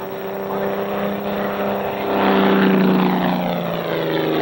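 A propeller aerobatic airplane maneuvering in flight, its engine droning steadily and loudly with a rising swell midway as it pivots, close and continuous with no voices.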